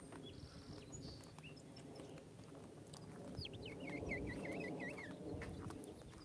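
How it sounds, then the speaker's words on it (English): Birds chirping and calling outdoors over a steady background rumble, with a run of warbling calls rising in the middle. "I love the birds out here."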